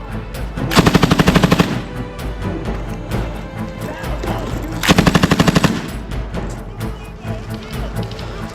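Airsoft M240B machine gun firing from a belt at a patrol skirmish, with two sustained rapid bursts of close, loud automatic fire about four seconds apart over steady background noise.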